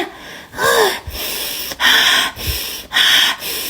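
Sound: deep breath of fresh air after removing face mask

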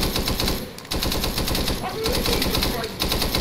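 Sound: machine gun fire in the video game Arma 3

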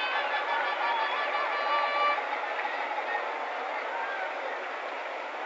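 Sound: baseball crowd cheering at the 1964 World Series

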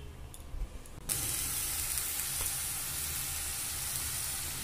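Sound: ginger-garlic-onion paste poured into hot oil with dry chilli, bay leaf

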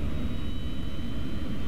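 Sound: DC-9 jet engine starting up in Flight Simulator 2004 video game

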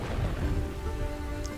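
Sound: thunderstorm with rain in video game Kingdoms and Castles

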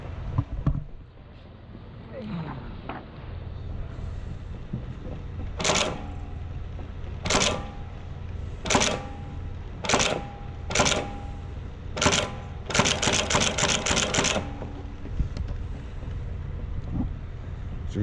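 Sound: Acme Interlake Model A flat book saddle stitcher operating

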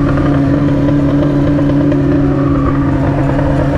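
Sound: XJ6 motorcycle engine and exhaust

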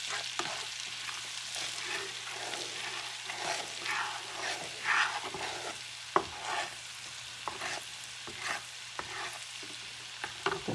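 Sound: minced garlic frying in a pan over medium heat

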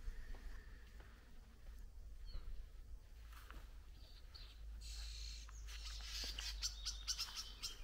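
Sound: birds chirping in countryside trees with birdhouses

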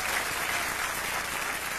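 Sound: congregation applauding for Jesus

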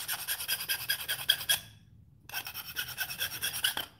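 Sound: deburring and chamfering a cut aluminum edge

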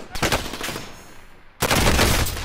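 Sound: gunfire in Call of Duty Warzone video game

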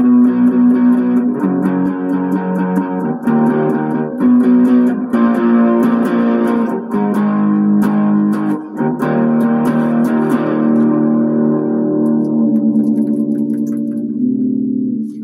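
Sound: Ibanez miKro GRGM21 electric guitar played with distortion

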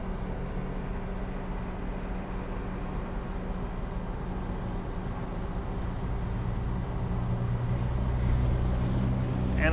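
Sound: Trail King TK80 HT trailer main tail lowering to ground

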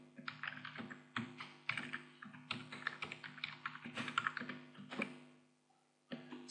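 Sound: typing on a computer keyboard

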